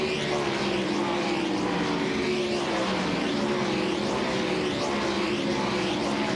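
Sprint race cars at Williams Grove Speedway scream past together as a steady, loud, high-pitched engine roar with overlapping whines, a continuous wall of sound from the pack running side by side through turns three and four.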